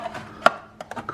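A knife cuts a baked meatloaf in half on a platter, a few quiet, close knocks of the blade meeting the platter with one sharper tap in the middle, no talking.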